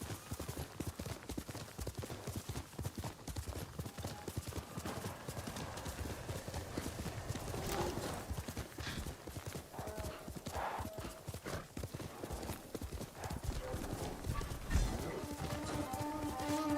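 Horse hooves galloping in Ghost of Tsushima: Director's Cut, a fast, steady clip-clop rhythm that runs close and loud throughout, with an occasional whinny and faint voices underneath.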